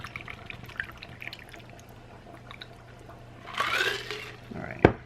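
Liquid poured in while making enchiladas and margaritas, a short gurgling pour near the end followed by a sharp splash or clink, close and moderately loud after quiet background and brief talk.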